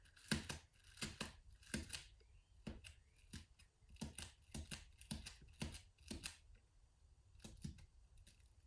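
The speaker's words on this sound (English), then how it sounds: "Now I'm going to take my pin and I'm going to start punching around." A pin punched repeatedly through thin tissue paper, sharp crisp pokes and rustles in quick irregular clusters, close and quiet with no talking.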